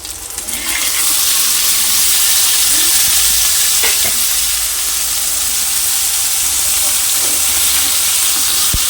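Crabs dropped into a hot pan of oil with ginger garlic paste for a Telugu-style crab curry, a loud, sustained sizzle and hiss rising sharply at first and frying steadily throughout, with occasional faint clinks.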